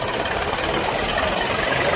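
An empty farm tractor's engine runs in a steady, close, loud rumble with a slight knocking pulse, unbroken for the full two seconds.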